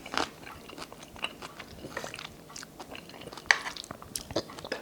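Someone chews and bites through Filipino kare kare stew with soft vegetables, beans, pak choy and kabocha. The quiet, close mouth sounds come as small wet crunches and smacks scattered irregularly over near silence.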